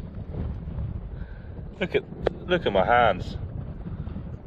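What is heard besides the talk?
wind blowing on microphone at estuary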